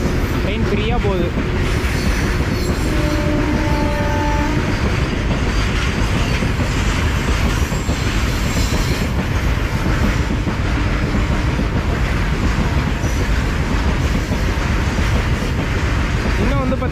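A Southern Railway MEMU train runs along the tracks, a loud steady rumble of wheels and carriages with clattering and brief squeals throughout, heard close as from on board.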